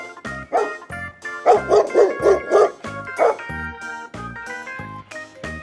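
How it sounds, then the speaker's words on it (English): A black dog barks repeatedly up close, loud bow-wow barks coming in a quick burst with some yips and whimpering tones between them. "Wow, black colored dog. Very fantastic dog."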